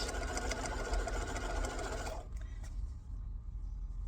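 A sewing machine stitches a bag seam in a fast, steady whir for about two seconds, then stops, leaving a quiet room with a few faint clicks.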